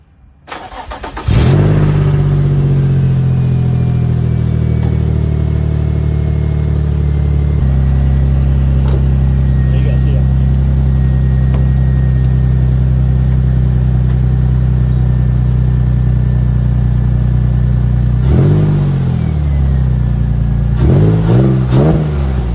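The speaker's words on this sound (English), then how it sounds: "First cold start of the day." An Infiniti G35 V6 with a Spec D cat-back exhaust fires up from cold, flares loudly, then settles into a steady raspy high idle, blipped again near the end, heard close with no talk.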